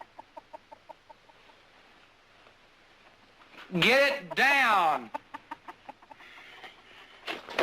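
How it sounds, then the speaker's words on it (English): A chicken clucks in short, steady pulses, interrupted midway by a loud, wavering squawk burst from the bird before the rhythmic clucking resumes, with a voice briefly speaking over it. "What about my chicken?"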